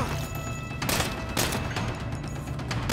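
Rapid gunfire in Saints Row (2022) crackles loud and close, dense volleys with sharp louder shots punching through around the one-second and one-and-a-half-second marks, no voices heard.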